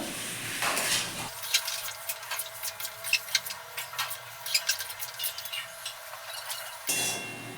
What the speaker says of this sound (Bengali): এবার আমি ভালো করে মাংসের সাথে মশলাটাকে মিশিয়ে নেবো